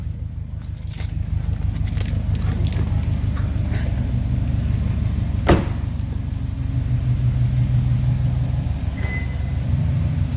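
A 2017 Subaru STI idles after a remote start, a steady low engine rumble with a faint rhythmic throb, close and constant throughout, with one brief sharp click midway.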